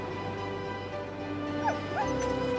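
Greenland sled dogs in the Arctic whimpering and yipping, with rising whines and short yelps close by over a low background hum.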